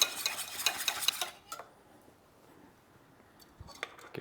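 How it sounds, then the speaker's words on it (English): Lobster bisque whisked until frothy, a rapid clinking rattle of the whisk against the pot for about a second, then quiet with a few scattered clinks. "We'll take a whisk it up so that it gets kind of frothy."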